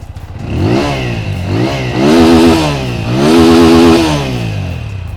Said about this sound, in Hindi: उसी के साथ है ये मेरा फेवरेट साइड हंग सिंगल बैरल एग्जॉस्ट। चलिए इसका आवाज सुनते हैं।